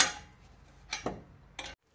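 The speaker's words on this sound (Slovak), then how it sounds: "Kľúčom 22 lambda sondu povolíme." Ratchety metallic ticks and clicks as a 22 mm wrench breaks loose the oxygen sensor on a Mazda MX-5 NA: a few short sharp snaps spaced apart, close and fairly quiet, with no talking.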